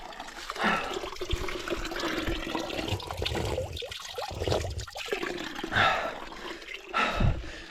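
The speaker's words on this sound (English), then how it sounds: "I found another one of those little water fountain thingies." A small outdoor water fountain in Bulgaria with a fairly strong flow, giving an irregular splashing, gurgling stream, close and moderately loud, with a few louder bursts and no talking.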